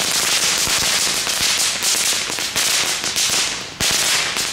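Fireworks and firecrackers set off outdoors in Delft, a dense, loud barrage of rapid crackling bangs and pops running without a break, with no talking heard.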